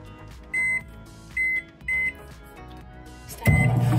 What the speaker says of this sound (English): now we put it in the microwave